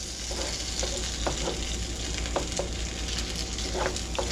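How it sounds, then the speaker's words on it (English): Beef and sliced peppers stir fry in hot oil, giving a steady, close sizzle with scattered pops and soft stirring scrapes throughout. "Because we're stir frying here."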